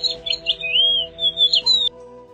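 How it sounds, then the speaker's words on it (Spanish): A crested lark sings a short series of clear, sliding whistled notes in the dry summer hills of central Spain, close and fairly loud before stopping abruptly. "La omnipresente cogujada."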